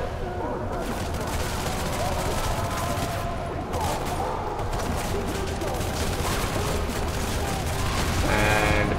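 Dense gunfire in the violent shooter game Hatred, a continuous barrage of overlapping shots and explosions filling the whole stretch, loud and relentless, with a voice talking over part of it.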